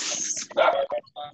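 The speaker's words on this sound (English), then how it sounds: "Whoever is near dogs, mute yourself." Dogs barking near someone's microphone during an online university forum call, a few sharp barks and a whimpering yip in quick succession, loud and close, heard alone.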